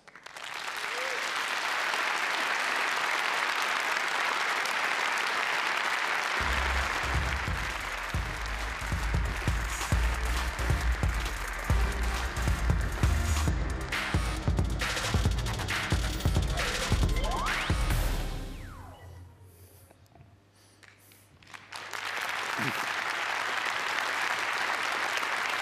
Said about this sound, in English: please welcome Uri Levin with a great round of applause.